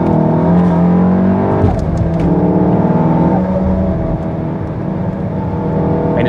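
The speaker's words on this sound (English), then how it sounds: "let's go have some fun out on Silverstone in my Stage 3 manual Golf R" Stage 3 manual Volkswagen Golf R lapping Silverstone, its engine loud and close from inside the car, revving hard with pitch climbing through the gears and dipping on shifts.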